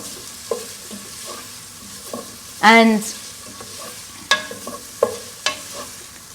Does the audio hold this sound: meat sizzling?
yes